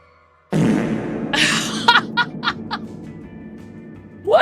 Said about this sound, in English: I wonder if there's any reverse fart noises. Turns out there is.